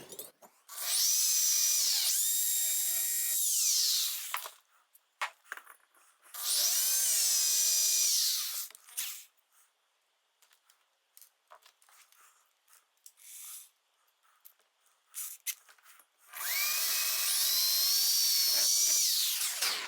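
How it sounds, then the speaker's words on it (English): Three long bursts of a high-pitched drill whine, spinning up and down, separated by quiet gaps with small clicks and handling noises, during transmission repair on a 1985 Honda XL600R. "so a bunch of drilling"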